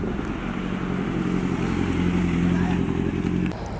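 Motorcycles, including a Kawasaki Z900, being wheeled out and started at a bike delivery; a steady, fairly loud engine rumble idles throughout with muffled voices over it.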